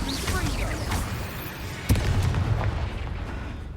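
Spells cast in the video game Hogwarts Legacy burst with booming explosions and crackling impacts, one sharp blast standing out, over a rumbling low background.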